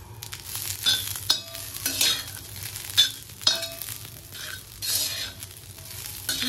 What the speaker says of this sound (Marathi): सगळं छान परतवून घेऊया।